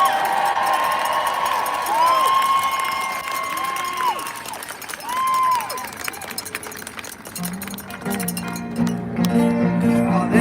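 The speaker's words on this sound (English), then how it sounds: "a big round of applause for all the people who worked so hard on putting all this together" A large outdoor protest crowd in Washington, DC cheers, whoops and claps, loud and distant, with a voice talking over the noise.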